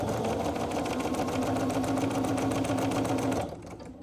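A sewing machine stitches quilt fabric with a steady, rapid mechanical chatter that runs loud and close for about three and a half seconds, then stops abruptly.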